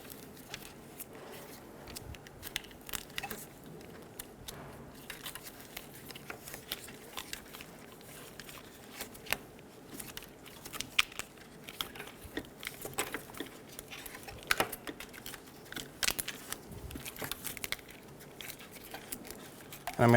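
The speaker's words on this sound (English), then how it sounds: "we're going to unwrap the loom" Adhesive tape being peeled and unwound from a wiring harness loom on a 2000-2007 Ford Focus radiator fan resistor, giving a steady stream of soft crackling, tearing and rustling bursts up close, with no talking.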